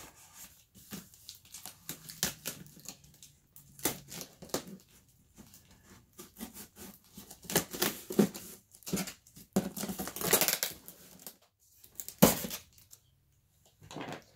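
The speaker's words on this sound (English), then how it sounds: "I was worried about the knife and I almost cut myself on the box" A knife cuts open a cardboard box from Shark, with bursts of close scraping and tearing strokes and crinkling between short pauses, moderately quiet and with no talk over it.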